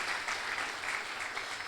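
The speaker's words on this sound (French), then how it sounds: "Acclamons pour le Saint-Esprit." A church congregation applauding at a Saturday evening worship session, steady sustained clapping from many hands filling the room without pause.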